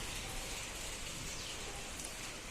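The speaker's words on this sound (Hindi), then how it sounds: "कितने दिनों के बाद आज बारिश शुरू हो गई है" Steady rain falling in a hilly village, a dense, even hiss of drops on surfaces that fills the whole clip, with no voices.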